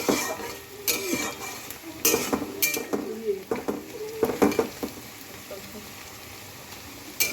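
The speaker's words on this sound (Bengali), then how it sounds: "দেখুন এরকম ভাজতে থাকবেন।" A metal spatula scrapes and clatters in a pan as onions fry for chicken biryani, with sharp clanks and stirring strokes over a faint, steady sizzle. The clanks come in irregular bursts and grow sparser toward the end.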